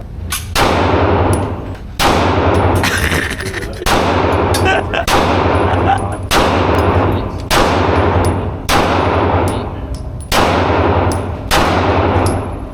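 Gunshots fire in a steady series of about seven loud, sharp blasts, one roughly every two seconds, each trailing off in a brief ringing decay, with no talking.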